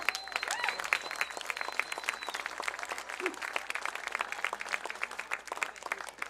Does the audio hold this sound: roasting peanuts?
no